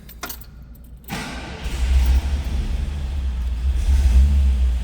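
The 429 V8 in a 1966 Cadillac Eldorado convertible cranks briefly and then catches, settling into a deep, steady, close idle rumble that holds to the end.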